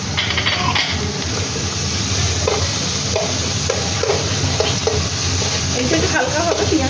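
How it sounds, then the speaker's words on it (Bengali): Chopped onions and chillies sizzle loudly in a hot wok for egg chicken chowmein, a steady, close frying hiss broken by light clatters of stirring. "এবার আমি এর মধ্যে পেঁয়াজ কুচিগুলো দিয়ে দেবো"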